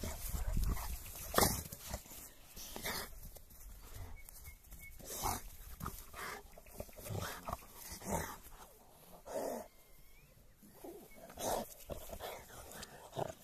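An American Bulldog whimpers and huffs in short, repeated bursts, close by, with rustling and snuffling between the sounds.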